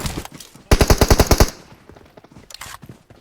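Gunfire in the PUBG Mobile battle royale game, a loud close burst of about eight rapid automatic shots, followed by quieter scattered shots.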